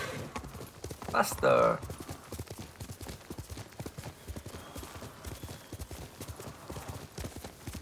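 Horse hooves clip-clop in a steady, rapid rhythm throughout as a horse gallops in a video game, with a brief louder burst near the start and a voice speaking over it.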